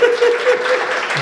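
Audience at a comedy song performance clapping in a brief, steady burst, with a sustained vocal or instrument tone running underneath.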